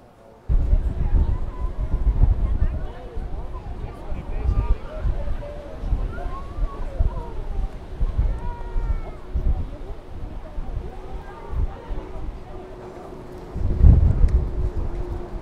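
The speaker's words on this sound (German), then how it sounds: "der Wind pfeift, das hört sich alles etwas unheimlich an" Gusty wind buffeting the microphone with low rumbling bursts and a faint whistling tone running through, continuous over several seconds.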